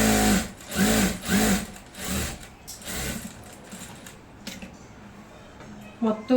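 Sewing machine stitching a salwar pant, with several bursts of rapid mechanical whirring that grow shorter and fade, followed by quiet handling and a faint thump at the end.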